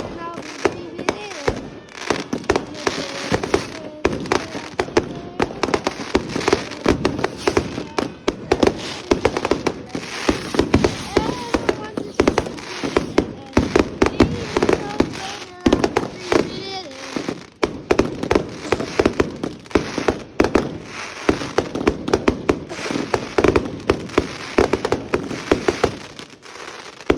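Fireworks burst and crackle continuously for nearly half a minute, loud and dense, with overlapping pops and rapid firecracker-like volleys, while people talk and cheer excitedly throughout.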